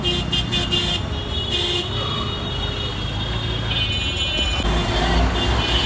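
A battery auto rickshaw rolls through Dhaka streets at night, with a steady drone of traffic and road noise, a few short horn toots and a brief high electronic tone partway through.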